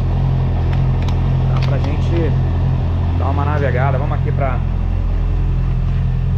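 A Honda CBR 650R motorcycle engine idles with a steady low hum, heard close while someone talks over it throughout.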